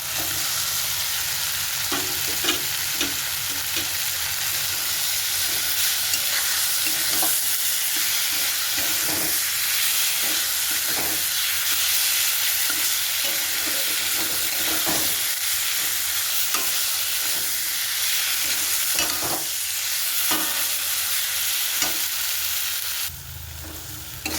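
Goat fat sizzles in a pan of spiced oil, a steady loud frying hiss broken by repeated scraping taps as it is stirred, with no voices.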